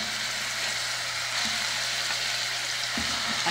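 Fish sizzling steadily in a pan with onion for a quick fish stew, a continuous broadband frying hiss with a low hum beneath and small bursts of louder crackle around the middle and end.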